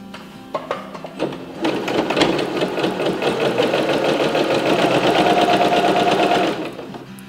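A sewing machine runs steadily along the edge of a linen tea towel, its fast rhythmic stitching chatter starting after a few clicks and holding for several seconds before stopping, close and loud with no talking.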